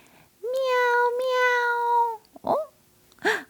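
A cat meowing: one long drawn-out meow followed by two short, rising chirpy mews, close and clear with quiet gaps between.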